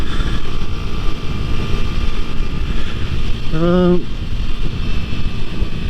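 A 2024 Husqvarna Vitpilen 125 motorcycle on the road, its engine a steady drone under heavy wind rush at a GoPro, with a brief rising-pitch tone near the end.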